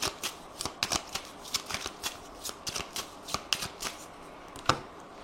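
A 32-card deck is shuffled by hand for a tarot-style reading, giving close, crisp riffling and flicking bursts in an irregular rhythm, with no speech.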